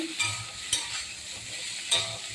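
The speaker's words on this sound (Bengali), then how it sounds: "আদা দিয়ে একটু নেড়ে" Soybean chunks and potatoes stirred with ginger in a pan, giving a faint low sizzle broken by three short scraping strokes of the spoon, quiet and without talk.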